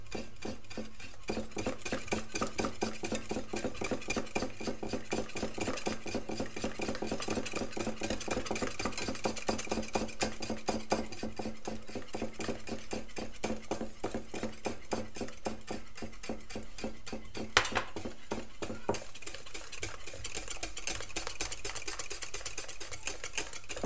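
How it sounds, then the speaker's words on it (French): Cake batter for a coconut cake stirred steadily in a bowl while oil is added bit by bit, a dense continuous scraping and sloshing with rapid regular strokes, close and fairly quiet, no talking. "On mélange un peu. On va rajouter l'huile petit à petit."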